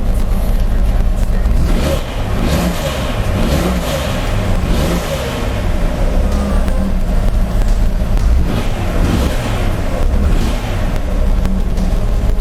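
A rebuilt Jeep engine running loud and steady up close, a dense continuous rumble with slight rises in revs and no talking over it.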